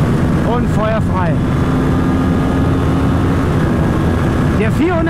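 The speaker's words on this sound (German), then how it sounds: "Der 441 Kubikzentimeter Motor ist ja auch so schon extrem drehfreudig" A Kawasaki Ninja 7 Hybrid 441 cc motorcycle engine at speed, a steady loud droning roar with wind noise and rising and falling revs, recorded close by from the rider's position.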